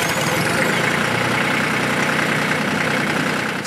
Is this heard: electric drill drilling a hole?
no